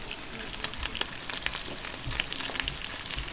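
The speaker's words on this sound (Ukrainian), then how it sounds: "в одну сковорідку вже додала цибульку" Steady, close-up sizzling of onion frying in a pan, with scattered small pops and crackles over a continuous hiss.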